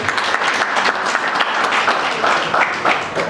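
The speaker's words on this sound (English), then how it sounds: "So let us clap for the President." Dense crowd applause for the President at an NRM women's league celebration in Johannesburg, loud and continuous throughout the short stretch.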